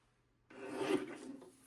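A paper trimmer blade sliding through a strip of cardstock: one short, soft rasping cut after a moment of quiet, close and fairly faint.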